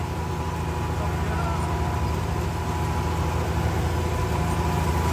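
A tractor engine runs steadily at close range during sowing work in a farm field, giving a continuous low rumble that holds an even level throughout without any break.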